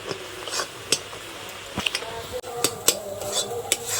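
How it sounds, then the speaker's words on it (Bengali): A metal spatula scrapes and taps in a pan while mashing Marie biscuit crumbs into caramel for kulfi, giving irregular sharp clinks and scrapes close by over a low background hiss. "এখন বিস্কুটের গুঁড়োগুলোকে এইভাবে একটু খুন্তি দিয়ে ম্যাশ করে নিতে হবে।"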